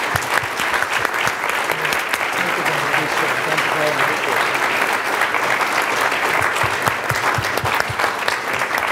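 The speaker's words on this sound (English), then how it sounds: "let's give another round of applause" A dinner audience at a foreign-affairs conference keynote applauds loudly and continuously, a dense clatter of many hands clapping near and far throughout.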